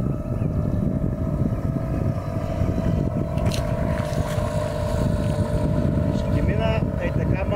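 A motorboat runs at speed on open water, its engine a steady loud drone with wind buffeting the microphone throughout; voices are faintly heard over the motor.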